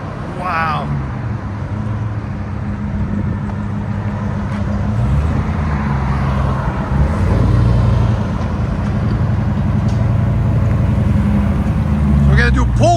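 A Demon-swapped Jeep Gladiator with headers and Valvetronic exhaust valves roars loudly and continuously through a long pull, its deep exhaust note rising and falling, with people shouting excitedly over it.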